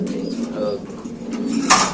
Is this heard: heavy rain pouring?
no